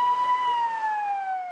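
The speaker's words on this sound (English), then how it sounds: "Siren sound as smoke pours from a window" An emergency vehicle siren wails steadily at a fire at an elderly-care hospital in Miryang, South Korea, its tone gliding slowly downward, fairly loud and continuous over a faint background hum.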